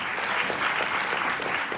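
Audience at a town hall meeting clapping for the mayor, a brief burst of dense, even applause from a roomful of people.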